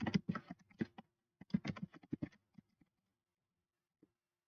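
Computer keyboard typing during a late-night session: bursts of quiet clicking keystrokes for about two seconds, a short pause, another cluster, then a single faint tap, with no talking.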